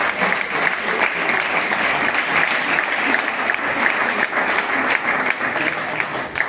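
Sustained, dense applause fills an indoor room at a district sports awards ceremony, honouring a men's M45 team that placed third; clapping stays steady and fairly loud throughout with no one speaking over it.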